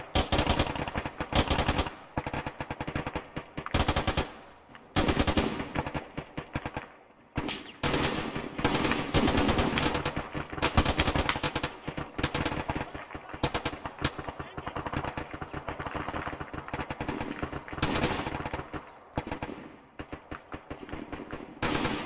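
Gunfire in the video game Arma 3: sustained loud automatic bursts and single shots hammering almost continuously, broken by brief pauses, with voices talking underneath.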